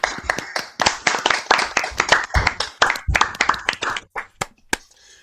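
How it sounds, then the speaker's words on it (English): Hand claps from an online audience applauding a speaker after a talk on sailor chanties, a quick burst of many sharp overlapping claps that thins out into a few scattered claps before fading. "give him a round of applause"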